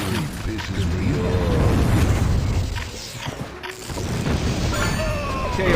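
Video game explosions from a cannon weapon: booming, crashing blasts and mechanical clatter roll continuously at moderate loudness, with a brief dip in the middle before the noisy barrage picks back up.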